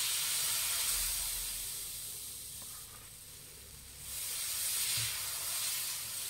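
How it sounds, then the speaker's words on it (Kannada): Dosa batter is poured and spread on a hot pan, giving a continuous sizzling hiss that dips briefly in the middle and then returns, close and fairly quiet, with no talking. "ಮಿಕ್ಸ್ ಮಾಡಿ ಹಾಕಿ ಹಿಟ್ಟನ್ನ"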